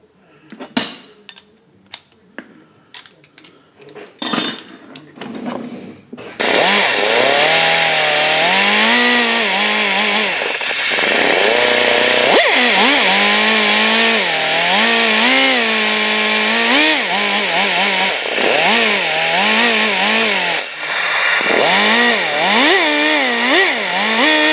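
A diamond point grinder chamfers a two-stroke cylinder's transfer port: a steady, loud, high whine that wavers in pitch as the bit cuts. It runs almost without pause after a few seconds of clinking and handling noise.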